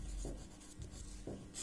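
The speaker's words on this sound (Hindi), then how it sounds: "तो हम यहाँ लिखेंगे" Chalk or pen scratches out words on a board during a Hindi grammar lesson, a few short faint strokes in a quiet room.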